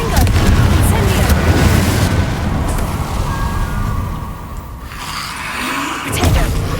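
Fiery spell blasts from Confringo and Incendio casts in the Hogwarts Legacy video game, a dense, loud run of booming explosions and crackling bursts that rumble continuously, briefly thinning before a fresh surge of blasts.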